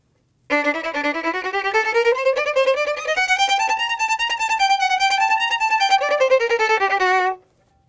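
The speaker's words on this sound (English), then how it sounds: "So this passage from the Lalo that we already covered is going to sound like this in doubles." Violin playing a fast passage from Lalo in double stops, slightly off the string, a steady stream of quick bowed two-note chords rising and falling in pitch, close and clear with no talking.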